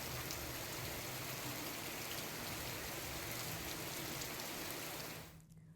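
Heavy rain pours down onto streets turned into rivers of floodwater, making a loud, steady, dense hiss of falling and rushing water that cuts off abruptly near the end.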